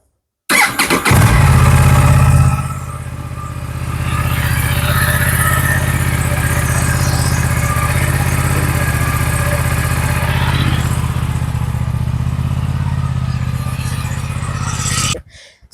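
An Aprilia RS 457 parallel-twin motorcycle engine fires up with a few revs, then settles into a steady, even idle that runs smoothly and loudly before cutting off.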